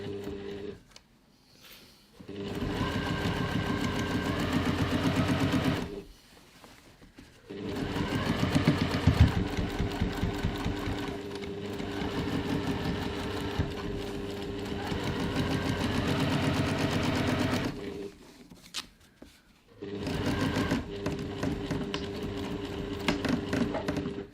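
A sewing machine top-stitching across a ribbon loop on a reusable grocery bag, running in long steady bursts with short pauses between, close and fairly loud, rattling with a slightly uneven, labored tone.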